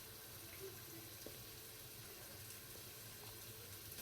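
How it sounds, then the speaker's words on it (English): Cauliflower (gobi) rinsed under a running kitchen tap, with a steady, even hiss of flowing water and splashing in a sink throughout and no voices. "So now gobi is washed."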